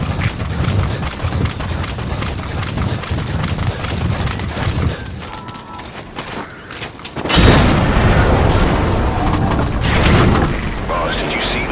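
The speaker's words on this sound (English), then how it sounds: "Boss, did you see that explosion? There's smoke. The target's crashed his vehicle." A vehicle crashes and explodes in Metal Gear Solid V: The Phantom Pain, a heavy burst of noise erupting partway through over a steady bed of game sounds and hoofbeats.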